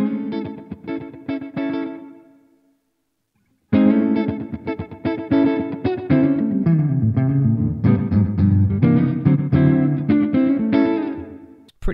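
An electric guitar runs through the Primo plugin compressor on the American Classic amp, with reverb and delay. Plucked notes and strummed chords play, then a brief silent gap, then denser playing with sustained ringing notes.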